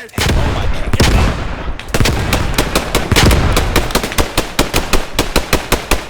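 Rapid gunfire and explosive blasts in the World War II shooter Squad 44, with dense roaring bursts early on giving way to a steady run of loud, evenly spaced shots.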